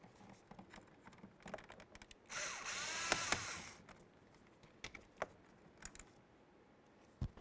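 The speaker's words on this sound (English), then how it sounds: "Once you have both of your screws out" A power screwdriver spins out a Phillips head screw from a 1998-2011 Ford Ranger front door panel in one short whirring burst, surrounded by scattered light clicks and taps from handling the panel.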